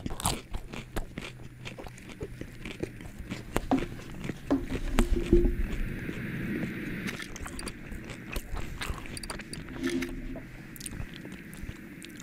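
Close, crisp biting and crunching of tacos, with steady moist chewing repeated throughout at a quiet ASMR level and no talking over it.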